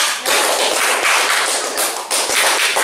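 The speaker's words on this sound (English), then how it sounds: "Please give applause to Mrs. Citra." Audience applause in a classroom: dense, loud clapping from a group of people, sustained for a few seconds with brief dips, no talk over it.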